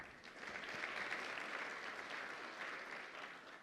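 Sustained round of applause from a large keynote audience at an AWS Summit in Bahrain, a dense, steady wash of clapping at moderate distance with no voices over it.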